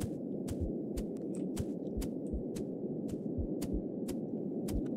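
A heartbeat pulses in a horror video game, with regular soft low thumps beneath a dense droning hum and sharp ticking clicks, steady and continuous.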